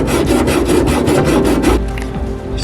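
A hand file rasps against the edge of a Seibon carbon fiber trunk on a 2015-2021 WRX, making about nine quick, even back-and-forth strokes up close before it stops.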